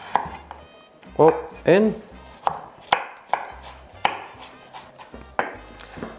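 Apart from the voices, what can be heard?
slicing food into julienne with a sharp knife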